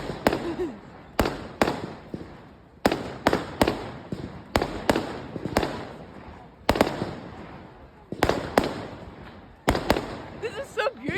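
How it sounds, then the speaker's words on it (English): Fireworks burst over Beverley on bonfire night, 5 November: a rapid series of loud, sharp booms and crackling pops in close clusters, with short gaps between volleys and faint voices in the background. "It's not thunder, guys. It's fireworks."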